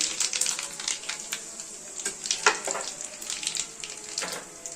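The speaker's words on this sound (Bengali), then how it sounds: "একটু কালো জিরা আর শুকনো লঙ্কা ফোড়ন দেবো" Soft, steady crackling sizzle of dried red chillies and black cumin (kalonji) tempering in hot oil, fairly quiet, with a few light clinks and pops and no talking.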